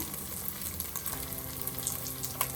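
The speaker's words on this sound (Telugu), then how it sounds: "ఇదిగోండి ఈ కీమా మనం ఎక్కువసేపు మనం వేయించుకోవాలి" Chicken keema fries in a pan for a cashew chicken keema pulao, giving a quiet, continuous sizzle with faint crackles and occasional stirring scrapes, heard close and alone.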